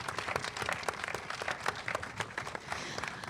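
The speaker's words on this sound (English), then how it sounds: "let's have another round of applause for our directors" An audience at a live event applauds the directors, a lively, uneven patter of many hands with sharp individual claps standing out, moderately close and continuous.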